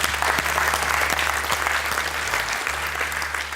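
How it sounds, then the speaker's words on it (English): An audience at an awards ceremony for ethics in sports, held at FIFA headquarters, breaks into sustained, dense applause that stays loud and even throughout. "Big round of applause."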